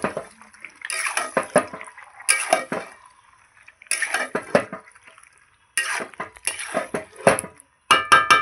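A pot of food seasoned with garam masala is stirred with a metal utensil in a home kitchen. Bursts of scraping and clattering come in uneven strokes, separated by short quiet pauses.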